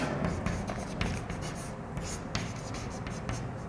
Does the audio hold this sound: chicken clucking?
no